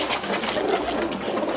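Pigeon cooing close by, a short soft run of low throaty coos over faint background noise.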